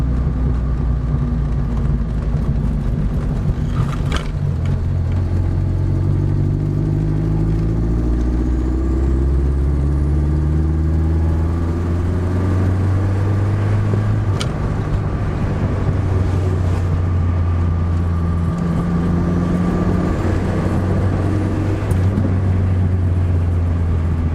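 A 1987 four-cylinder 2.2 turbo car engine drones loudly from inside the car, climbing in pitch through repeated accelerations with gear changes. The sound is steady and close throughout.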